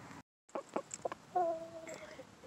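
Faint rooster clucking in a pen, a few short clucks followed by a longer drawn-out call, quiet and fairly close.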